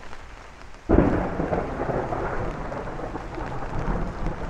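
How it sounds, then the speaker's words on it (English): A sudden loud thunderclap from a lightning strike during a night rainstorm in Bay Ridge, Brooklyn, erupting over steady rain and then rolling on as a long, broad rumble. "that was a lightning strike"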